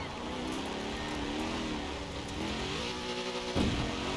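A rear-wheel-drive car in the racing game Forza Horizon accelerates out of bushes, its engine drone rising and holding steady and loud throughout, with a brief thump near the end.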